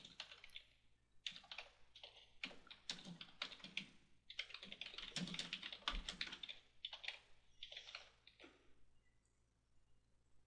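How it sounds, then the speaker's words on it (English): Rapid typing on a computer keyboard, close and distinct, runs in uneven clusters of keystrokes with brief pauses between them and no talking. "We now will want to type out exactly what that file said."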